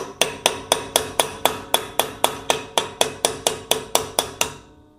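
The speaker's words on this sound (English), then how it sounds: "We're going to put our punch in the center of the square piece, and then we're going to begin tapping this out." A hammer striking a punch to tap out a metal piece, about fifteen sharp, ringing metallic taps at a steady brisk rhythm, close and clear, with no talking.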